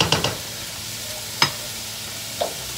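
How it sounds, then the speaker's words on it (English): Vegan alfredo sauce stirred in a pan on the stove: a few sharp scraping clinks of a utensil against the pan over a soft low sizzle, with pauses between strokes. "I'm going to give my sauce a little stir"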